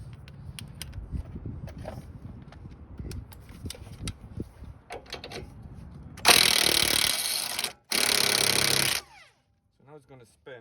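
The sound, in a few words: power tool loosening rusted sway bar link bolt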